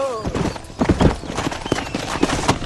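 Horse hooves from the game Red Dead Redemption clop in an uneven, brisk rhythm close by, with a brief voice at the start.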